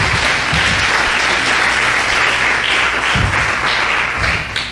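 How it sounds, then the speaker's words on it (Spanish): A congregation at a Spanish-language church service applauds loudly and steadily for the whole stretch, dense clapping filling the room with no break and no talk over it. "denle un fuerte aplauso al Rey"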